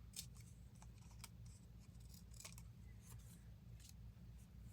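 Scissors trim paper in a series of quiet, crisp cuts at an uneven pace, close up, over a low background hum.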